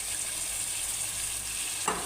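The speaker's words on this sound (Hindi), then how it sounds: "अब हम आलूओं की भी भुनाई करेंगे अच्छे से।" Potatoes for aloo baingan frying in a pan over fairly high heat, giving a steady, close hiss of oil with a short stirring clatter near the end.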